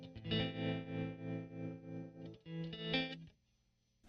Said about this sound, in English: So this is a triangle wave.